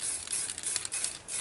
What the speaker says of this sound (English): Just going to spray it on